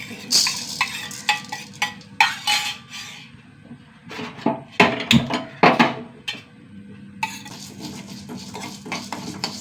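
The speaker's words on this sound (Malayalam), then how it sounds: "കുറച്ച് അരി വറുത്തെടുക്കാം കഴുകി വെച്ച അരിയാണ്" Washed rice dry-roasting in a pan, with repeated scraping and stirring clatters of a utensil against metal, uneven in rhythm and close, a few sharper knocks among them, no voices.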